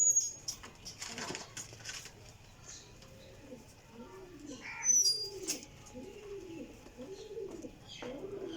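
Domestic pigeons coo in a loft, a run of soft rolling coos repeating in an even rhythm at close range, with a few faint chirps and background rustle.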